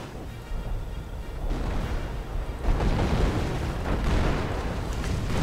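Artillery fire in a WWII strategy video game: a dense rolling rumble of distant booms and blasts that builds and keeps overlapping, loud and continuous.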